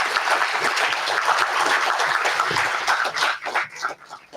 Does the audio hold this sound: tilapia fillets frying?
no